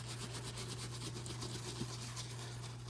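A brush scrubs grime off a tan leather boot with Fiebing's saddle soap, a steady, faint, close scratchy rubbing that goes on unbroken.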